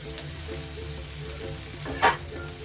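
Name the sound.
okra and potatoes dry-frying with spices in a pan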